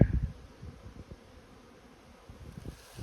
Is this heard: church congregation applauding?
no